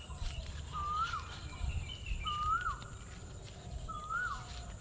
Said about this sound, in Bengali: যে কোকিল ডাকতেছে